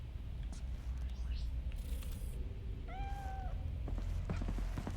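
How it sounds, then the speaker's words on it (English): A cat meowing once, a clear drawn-out meow in the middle over a low rumbling background, with a few faint clicks afterward. "Why is the meowing coming from a different angle?"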